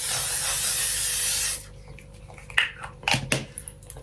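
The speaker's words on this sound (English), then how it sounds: "I'm gonna go in with the L'Oreal 3-second setting mist, and you just shake your setting spray" A L'Oreal 3-second setting mist sprays in one long, steady hiss for about a second and a half, close and fairly loud, ending with a few faint rustles and taps.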